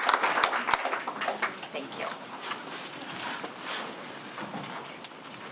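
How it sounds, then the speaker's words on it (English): Applause at a Tuesday morning committee meeting, a scattered clapping crowd in a hall, moderate and steady, fading slightly over several seconds. "So a round of applause and sincere thanks for the crucial role that you all play"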